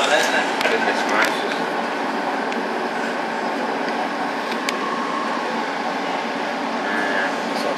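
Docklands Light Railway train running steadily, heard from inside the cab: a continuous rumble and rail hiss with occasional clicks, while people talk over it.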